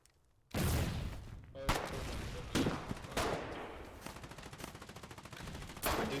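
Gunfire in the Foxhole video game: a burst of shots cracks in, followed by repeated loud bangs and a run of rapid automatic fire, dense and close throughout with no voices.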